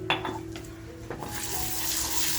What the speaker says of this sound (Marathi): तेल छान तापलंय आपला शलाका ऑलिव्ह म्हणून आपला घरगुती मसाला आहे तो टाकून घेते